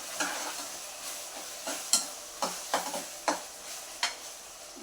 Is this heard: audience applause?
no